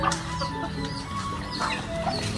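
Chickens cluck on and off over a steady low hum at a fishpond farm, with a few short calls popping out near the start and later on.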